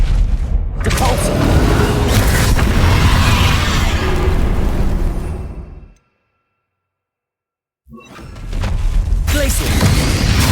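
The Depulso spell cast in the Hogwarts Legacy video game produces a loud, forceful magical blast over dense battle noise. It cuts to a brief silence before another burst of rushing, booming effects, with a voice heard in the mix.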